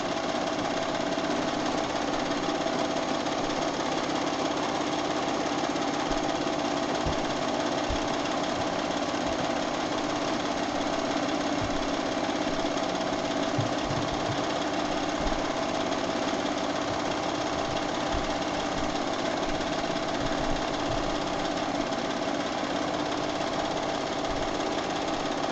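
A sewing machine stitches steadily through free motion quilting, a continuous mechanical hum and rapid needle chatter that runs unbroken and close, with no talking.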